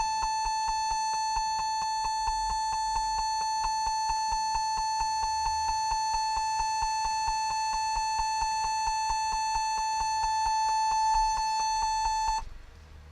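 A Compaq Presario F500 laptop sounds an error alarm: a steady, piercing electronic tone held for about twelve seconds before cutting off, with faint repeated ticks beneath it.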